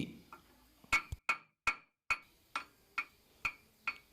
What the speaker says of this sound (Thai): ใช้ค้อนเคาะรอบๆให้เข้าที่